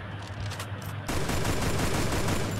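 Gunfire in the Free Fire mobile battle game, a steady wash of rapid shots that jumps louder about a second in and keeps going without a break, with no talking over it.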